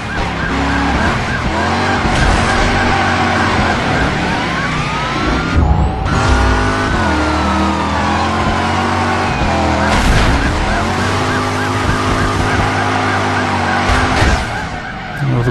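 A car chase in Driver San Francisco, with loud revving engines and long squealing tire skids, a siren wailing amid the roaring traffic throughout.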